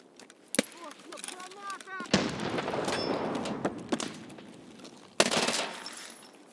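Uzi Pro pistol firing in a video game, heard as a sharp shot, then a sustained rattling burst of gunfire from about 2 to 5 seconds, and a final loud crack near the end, with faint voice-like sounds early on.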